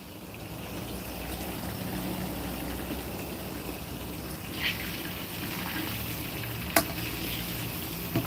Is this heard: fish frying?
yes